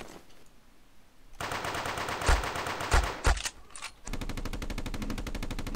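Gunfire in the Guncraft video game, a blocky online shooter, with bursts of automatic shots and a few heavier blasts, then a fast steady rattling run of rapid fire near the end, no talk over it.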